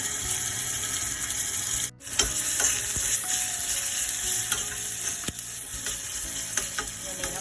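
Onion and curry leaves frying in a pan for a bitter gourd curry, giving a steady close sizzle with occasional stirring scrapes and no voices.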